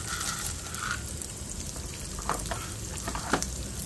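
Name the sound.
urad dal and chana dal frying in a pan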